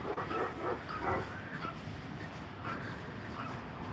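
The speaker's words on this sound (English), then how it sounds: "dogs that are reactive and barking at us on either side of the fences" Reactive dogs behind fences along a residential alley bark and yip in short scattered bursts at moderate distance, over steady outdoor background noise with no talking.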